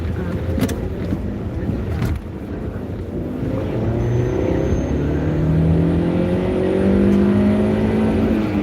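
A car driving on a road and passing another vehicle: a steady, loud interior rumble of engine and road noise with wind buffeting, the engine tone rising as it pulls past.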